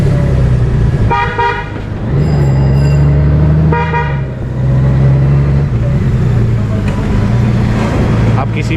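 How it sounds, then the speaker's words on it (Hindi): A 2022 Honda Goldwing BS6 motorcycle in matt black sounds its horn in two loud, short honks a few seconds apart, over a steady low engine rumble, with people talking throughout. "ये एसी का हॉर्न है, बहुत लाउड होता है।"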